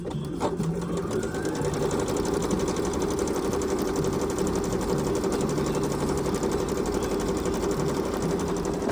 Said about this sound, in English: the B-38 Bernette machine working perfectly fine